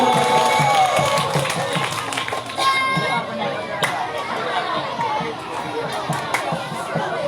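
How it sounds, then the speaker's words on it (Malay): An audience at a grand-final TPA quiz competition applauds and cheers for all the teams, a crowd of clapping and chatter with children's voices mixed in and a loud voice over the noise. "Tepuk tangan untuk semua regu."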